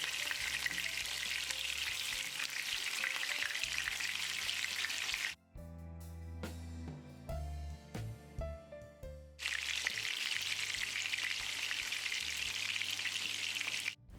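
Prawn vadai frying in hot oil gives a steady, close crackling sizzle, which breaks off briefly in the middle and then returns at full strength.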